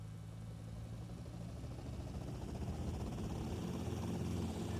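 A helicopter in the game GTA Vice City on PS5 runs with a steady, muffled engine drone that stays fairly faint and even throughout.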